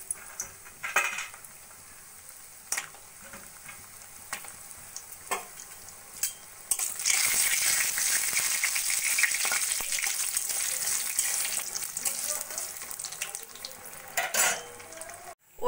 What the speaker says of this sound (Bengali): প্রথমে আমি কয়েকটা বড়ি ভেজে নেব।